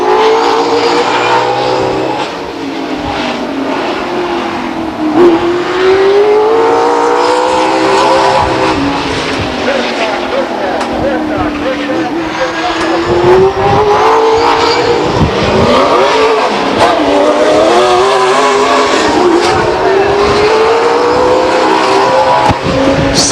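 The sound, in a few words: race cars racing on a speedway track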